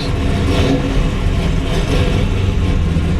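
A 1969 Chevy Camaro with a 572 V8 runs after starting, a loud, close, deep rumbling idle with a steady throb throughout and no voices.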